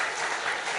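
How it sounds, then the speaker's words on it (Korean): A church congregation applauds together to celebrate a family's new grandson, a steady, fairly loud wash of clapping with no voices over it. "박수로 축하하겠습니다."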